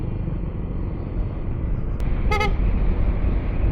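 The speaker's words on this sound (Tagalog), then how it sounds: "Yung busina natin piyok na." A short, squeaky vehicle horn, weakened after getting wet, toots twice in quick succession over a steady engine rumble, preceded by a sharp click.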